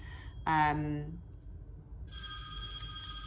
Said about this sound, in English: I'm getting distracted because the phone's going